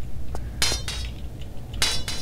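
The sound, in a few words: bird scratching with its claws in video game Tomb Raider IV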